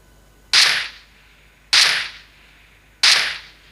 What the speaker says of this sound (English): With a single bullet I'm going to fire.